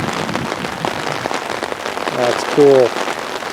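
Heavy rain falling hard outdoors, a dense steady hiss of drops across the whole stretch, close and loud, with a person briefly speaking near the end.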